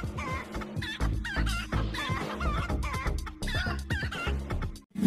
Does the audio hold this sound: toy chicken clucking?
yes